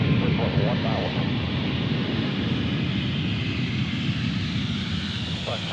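A Boeing 737 MAX 10 airliner flies in on approach, a steady broad jet roar holding throughout, with voices briefly audible near the start.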